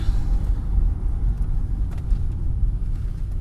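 A 2005 GM car with a newly replaced 4T65-E automatic transmission pulls away from a complete stop, giving a steady, loud low engine and road rumble close by with no one talking.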